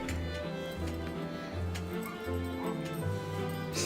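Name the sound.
small dog Reese yapping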